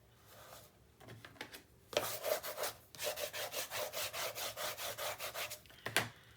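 Paper being burnished by hand along the edges of a handmade mini album, a run of steady rhythmic rubbing strokes, close and fairly clear, with a few scattered taps before it and a sharp touch near the end.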